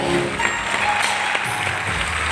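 An audience gives continuous, dense applause in a hall in honour of cricket coach Ramakant Achrekar, many hands clapping steadily and fairly loud, with no speech.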